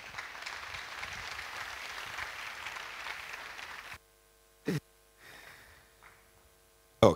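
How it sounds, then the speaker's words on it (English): Moderate audience applause at a university technology week event runs for about four seconds and then cuts off abruptly, leaving near-silence broken by a couple of brief bumps and a faint murmur. "Please, a round of applause."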